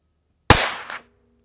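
.22LR rifle fitted with a Dead Air Mask suppressor fires one shot, a sharp, close crack that decays quickly and leaves a short ringing tail. The shot stands alone in otherwise silent surroundings.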